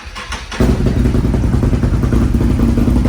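A 2020 CanAm Outlander XMR 1000R ATV engine cranks and catches after a short pause, then runs with a loud, rough clattering idle close by.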